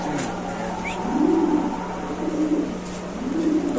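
A black Lahori pigeon coos in soft, low rolling phrases, three or so repeated calls close by over a steady background hum, with faint voices nearby.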